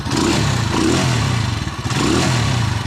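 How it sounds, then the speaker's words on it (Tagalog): A Rusi Macho 175 motorcycle engine with a knocking fault runs loudly up close, a rough, rattling clatter throbbing through its steady drone as it revs. "Pero may lagapak siya sa kanya makina."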